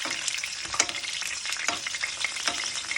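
A breaded chicken cutlet for chicken parmigiano fries and is basted in a pan, giving a loud continuous sizzle with recurring crackling bursts and spoon or utensil scrapes, no voices.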